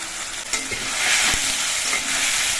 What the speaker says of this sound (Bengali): এবার মশলা দিয়ে কিছুক্ষণ কষিয়ে নিতে হবে